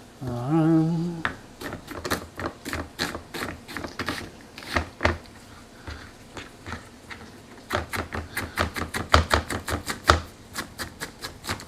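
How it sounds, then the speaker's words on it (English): A knife chops onions on a cutting board in a home kitchen, with a run of sharp, close taps, irregular at first, then quickening into fast, steady bursts, after a brief voice at the start. "please be careful when you're chopping onions or anything."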